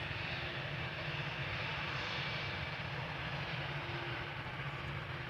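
A jet airliner's engines roar steadily at Amsterdam Schiphol Airport, a broad, continuous drone with a low rumble holding level and close throughout, no voices over it.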